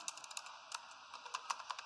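Keys clatter on a computer keyboard as a command is entered, a quick, uneven run of close, crisp clicks over a faint hum.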